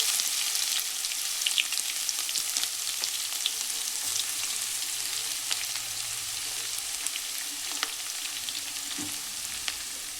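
Crushed garlic and dried red chillies sizzle steadily in hot oil for tomato rasam, a continuous close crackle with occasional louder pops and stirring, no voices.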